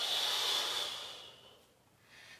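Breathing during a yoga sun salutation: one long, airy breath, close and fairly loud at first, fading out by mid-clip, then a softer second breath rising near the end.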